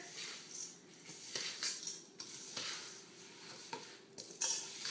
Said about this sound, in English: I'm just going to stir the whole thing together